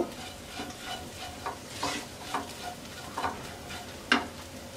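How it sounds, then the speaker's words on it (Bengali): Fried green peas being ground on a stone slab (pata), giving quiet, rough scraping strokes that repeat at an uneven pace. "এবার আমরা পাটায় বেটে নেব"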